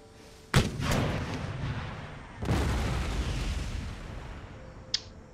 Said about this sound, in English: cannons, shellfire